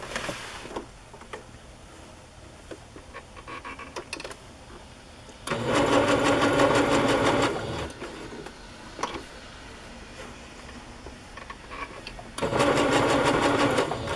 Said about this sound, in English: I'm going to sew that on right now.